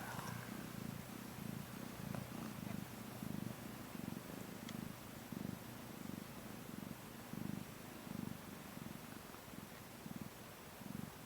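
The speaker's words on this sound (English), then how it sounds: "Is it good when cats purr?" A mother cat purring steadily while giving birth, the low rhythmic pulses repeating evenly and close up, alone with no talk.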